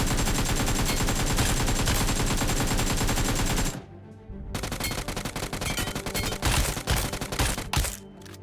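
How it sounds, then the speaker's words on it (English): AKM and UMP rifles are hip-fired in PUBG Mobile, dense rapid bursts of automatic gunfire that are loud and continuous, a brief pause, then another fast volley. "Here is a side-by-side comparison of UMP and AKM's hip fire."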